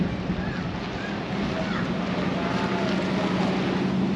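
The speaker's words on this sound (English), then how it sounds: "She's windy as around here." Continuous coastal wind at Bicheno, Tasmania rushes across the microphone, moderately loud and steady, with a low background drone.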